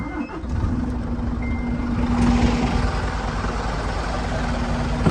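A truck's engine runs steadily to build air pressure after an air leak, a loud continuous low rumble with a faint hum, close by and without talking.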